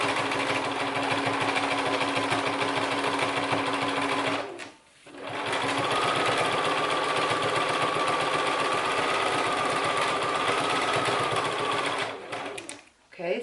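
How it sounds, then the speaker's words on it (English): A sewing machine stitches in the ditch along the seams of a quilt, running in a steady, close rhythmic whir that stops briefly twice. A voice speaks over parts of it. "So I'm just following, I'm stitching in the ditch."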